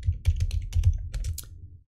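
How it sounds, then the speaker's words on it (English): Fingers type quickly on a computer keyboard while coding, giving a close, dense run of clicky keystrokes for about two seconds with no voice. "So I'm going to type in max."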